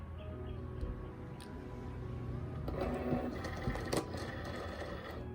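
A Cricut cutting machine feeds in material with a steady mechanical whir and motor hum. Light clicks and a higher whine rise partway through, close by with no talking.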